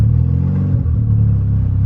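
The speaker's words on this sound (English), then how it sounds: "let me give this a few revs and see if it knocks" A turbocharged car engine running 5 PSI boost runs loud and close at a steady, rough pitch with the pedal held, a faint clattering knock under the drone.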